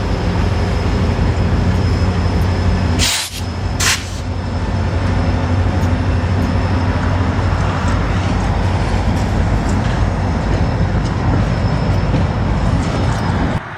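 An M&A Railway freight train runs north from Rapid City toward Spearfish, South Dakota, a loud continuous rolling rumble with a faint steady whine, broken by two short sharp noises early on.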